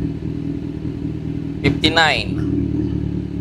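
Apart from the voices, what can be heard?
motorcycle engine idling during cold start warm-up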